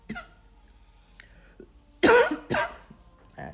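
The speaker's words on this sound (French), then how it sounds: "J'ai une toux de coq." A woman with a whooping-cough-like cough lets out two loud, harsh coughs close to the mic, each with a short throaty tail, after a quiet stretch with a few small breaths and a faint click.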